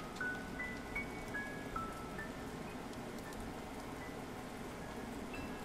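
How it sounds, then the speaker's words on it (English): Rain falling in a video game, a steady, soft hiss of drops at low volume, with faint chiming tones scattered over it and no talking. "the rain's actually messing with the camera a bit"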